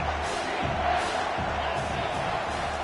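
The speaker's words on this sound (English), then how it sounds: "This crowd knows when to bring it." Football stadium crowd at a Washington game roaring in a steady, dense wash of cheering and yelling that holds loud and continuous throughout, with a play-by-play voice talking over it.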